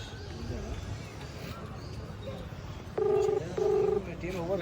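A phone call goes through with two short electronic tone bursts in the second half, heard over a busy background of voices and ambient noise.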